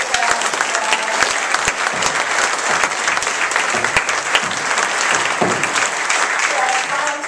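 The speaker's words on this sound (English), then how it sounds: "Let's give you all a great round of applause." An audience at an evening awards recognition event for a green business challenge claps for the awardees, a loud, steady round of applause that fills the whole stretch with dense, continuous clapping.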